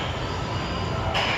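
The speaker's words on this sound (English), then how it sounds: "Choo-choo train." A small ride-on train at Santa Monica Pier rolls past with a brief, moderately quiet rumble of wheels and rattling cars, and a brighter clatter near the end.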